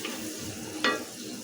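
Chopped onions frying in oil in a pan, a soft continuous sizzle with one sharp clink of a utensil partway through, with no talking.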